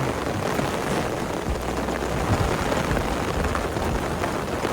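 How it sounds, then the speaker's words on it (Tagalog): Heavy typhoon rain pours down on a mountain as a dense, unbroken roar that stays loud and steady throughout, with no voices. "Lakas na ng ulan."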